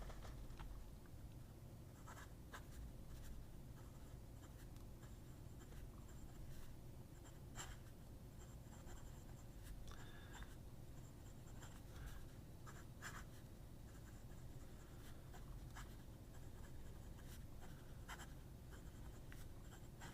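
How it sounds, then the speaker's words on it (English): Continuous soft scratching of an Aurora Talentum fountain pen with a medium nib writing on paper, close and quiet over a low room hum, with brief stroke pauses. "Just the right amount of scribing noise and feedback"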